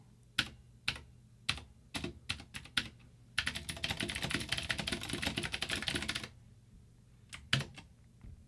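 Keys clack on a Vortex POK3R RGB mechanical keyboard, first as scattered single strokes, then a dense rapid burst of typing lasting about three seconds, then a few more isolated presses, close and clear.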